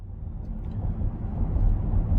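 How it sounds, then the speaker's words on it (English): Steady low road rumble and faint hum from a Mercedes EQS 580 4matic electric SUV on the move, a continuous smooth drone swelling slightly, with no speech. "I will now take you for a drive in this beautiful electric SUV from Mercedes."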